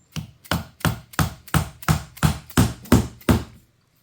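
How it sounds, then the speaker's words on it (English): A wooden wedge is hammered into a hatchet haft, ten evenly spaced sharp strikes ringing out close by, the later blows growing duller and heavier as the wedge bottoms out in the steel head. "as I start to hammer this in, you're going to hear it bottom out in the head."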